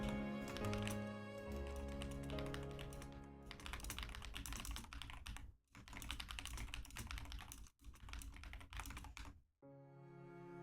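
Rapid clacking keystrokes on a mechanical keyboard run close and continuous, broken by a few brief pauses and a short stretch of steadier tone at the end.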